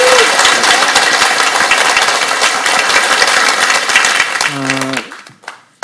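A church audience at a Korean Bible lecture anniversary gives loud, dense applause to glorify God, sustained for about five seconds before dropping away, with a brief tonal sound near the end.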